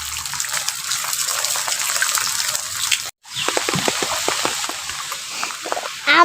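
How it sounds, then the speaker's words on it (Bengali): Rain falling on a street with water running along it, a steady broadband wash of rushing, splashing water that cuts out for a moment midway, then resumes with scattered drips and splashes. "বৃষ্টি হচ্ছে, তাও রাস্তায় পানি, তাও আমার ভালো লাগছে।"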